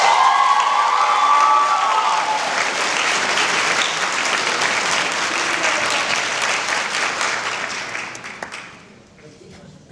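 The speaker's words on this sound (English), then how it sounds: "let's hear your applause" Sustained applause from a high school audience at an NHS installation ceremony, steady and dense for most of the span with a few cheers mixed in, then thinning out toward the end.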